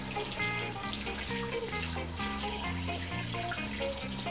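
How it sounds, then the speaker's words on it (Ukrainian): Tap water runs in a steady, hissing stream while music with stepping bass notes plays along throughout. "При цьому тече звичайна холодна вода."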